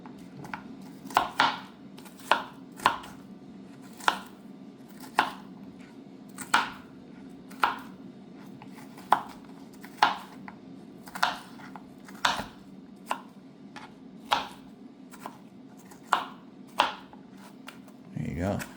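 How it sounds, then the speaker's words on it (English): A Paudin kitchen knife with a pakkawood handle chops tomatoes on a cutting board, giving about twenty crisp, evenly spaced knocks over a low steady background, with a voice talking faintly along the way. "Cut some tomatoes, inch cut"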